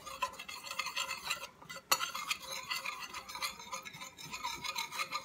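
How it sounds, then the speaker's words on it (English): Flour seasoned with salt and pepper whisked together in a bowl for crockpot deer cubed steak, giving a steady close scraping and clinking of a whisk against the bowl with one sharp knock partway through and no talking. "you just want to whisk it together"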